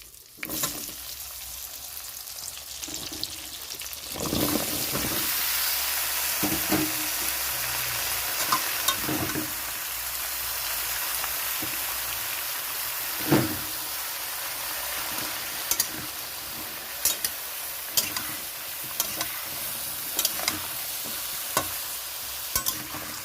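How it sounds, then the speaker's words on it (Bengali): Continuous hissing sizzle of potatoes and young jackfruit frying in hot oil, with occasional sharp scrapes and clinks of stirring throughout, no talking. "এই তেলের মধ্যে এখন আমি আলু আর ইঁচড়টা ভেজে নিচ্ছি।"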